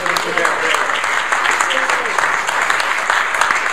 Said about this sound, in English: you need to give yourself an applause for that